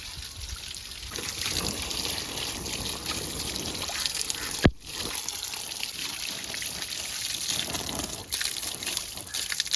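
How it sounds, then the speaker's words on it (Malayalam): Banana leaf rinsed under a running tap, a steady trickle and splash of water continuing throughout at close range, with one brief sharp knock near the middle. "ഇനിയിപ്പോ വാഴ ഇല കുറച്ചായിട്ട് നമുക്ക് കഴുകാം."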